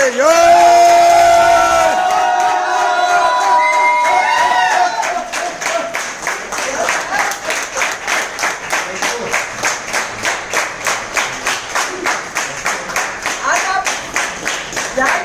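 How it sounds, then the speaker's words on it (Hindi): A business event crowd claps in a loud, steady rhythmic beat that continues strongly to the end, with cheers and whoops mixed in, after a voice speaks over a microphone at the start. "जोरदार ताली."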